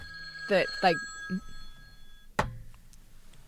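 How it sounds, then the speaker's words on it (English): A mobile phone rings nearby with two bright electronic tone bursts and a shorter third, followed by a sharp click and a faint trailing tone, with someone speaking briefly under it. "That was my phone for everyone listening."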